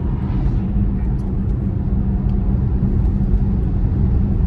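Tesla Model Y electric SUV accelerating in sport mode, heard from inside the cabin as a steady, loud low road and motor rumble with no break or rise in pitch.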